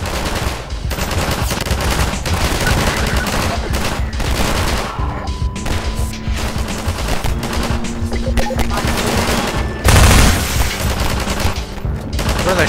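Gunfire in the game Half-Life 2, dense rapid volleys of automatic shots rattling continuously, with a heavier thump near the end.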